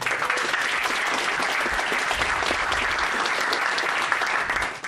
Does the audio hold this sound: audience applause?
yes